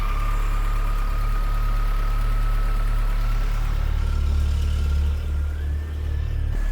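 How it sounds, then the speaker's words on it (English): A VW Golf Cabrio engine idling with a deep, throaty rumble from the exhaust, steady throughout with a slight dip in pitch near the end. "These engines, they just seem to have that kind of throaty noise to their exhaust."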